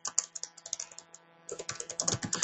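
Rapid clicking of keys on a computer keyboard, a burst of typing, a short pause, then another quicker run, close and fairly quiet.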